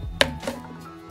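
About 20 grams of coffee grounds, slightly heaped, go into an AeroPress with one sharp clack followed by a softer scrape in a quiet room.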